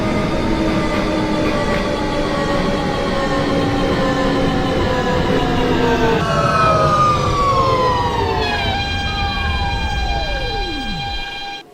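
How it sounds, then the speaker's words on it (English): A Manhattan-bound New York subway R train runs loud and close, with steady wheel roar and whining motor tones that shift pitch as it changes speed, one tone sweeping sharply downward near the end. "This is a Manhattan-bound R train."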